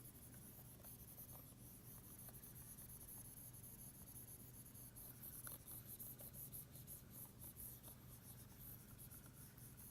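A duster rubs across a writing board in a faint, continuous scrubbing hiss, quiet and close with no voices over it.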